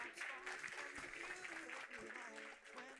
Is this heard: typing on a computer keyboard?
no